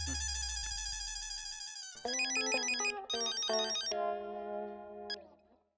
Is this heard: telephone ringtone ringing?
yes